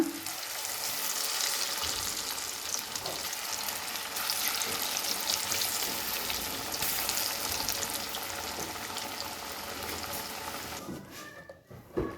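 Batter-coated chicken pakodi pieces sizzle and crackle steadily in hot oil, a loud, continuous frying hiss with occasional stirring clinks, settling toward the end.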